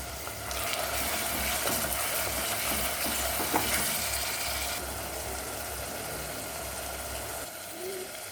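Onions sizzling and frying in a pan for a prawn and gongura curry, a steady hiss with scattered stirring scrapes and clinks, fairly soft and continuous throughout.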